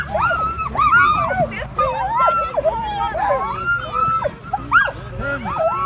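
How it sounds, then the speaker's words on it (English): Sled dogs at the start line of a long-distance mail race along a mountain highway yip, whine and whimper excitedly, a dense, continuous chorus of overlapping high cries close by, with people talking faintly beneath. "her dogs are just raring to go in the start here."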